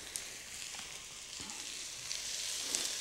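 Granny Smith apple pieces sizzling in a pan for soup, a continuous bright hiss of frying with faint occasional clinks, close but fairly quiet.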